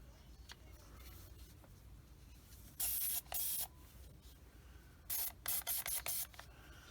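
An airbrush (Sparmax) sprays X22 gloss coat onto a 1/72 X-Wing model kit in short hissing bursts, with one spray, a pause, then several quick blasts in a row against a quiet background.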